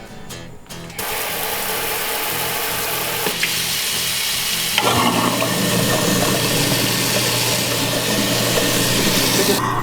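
A newly installed kitchen garbage disposal under a sink runs with water pouring, a steady loud grinding whir and rushing water that grows fuller partway through, with a brief clunk as it starts.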